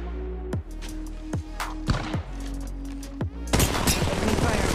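Rapid bursts of gunfire from the video game Apex Legends Mobile crack out at a steady rhythm, sharp loud shots in quick succession over a low game hum, ending in a dense noisy flurry of firing.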